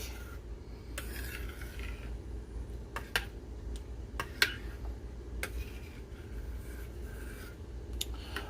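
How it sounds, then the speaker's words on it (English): A spoon scrapes and stirs through homemade apple butter in a cooking pot, soft repeated scraping strokes with a few sharper clinks against the metal, quiet and close, with no talking. "I'm stirring it up to get all that mixed in so it can cook."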